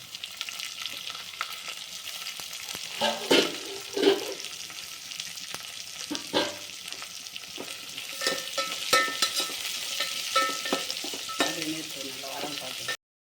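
Four medium chopped onions frying in hot oil for a Chennai-style vadacurry, loud sizzling that swells with bursts of scraping and stirring, then settles into a steady fry.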